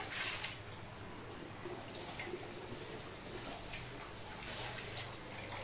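Water pouring and splashing away from flour in a bowl while rinsing it, a steady continuous gush lasting throughout, close and moderately loud with no speech.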